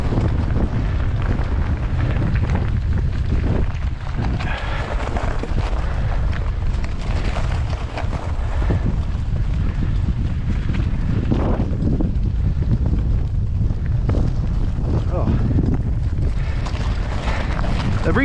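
Headwind buffets the microphone on a rail handcar moving along a lake on a railway subdivision, a loud, steady low rumble of wind noise with gusty surges throughout and no talking.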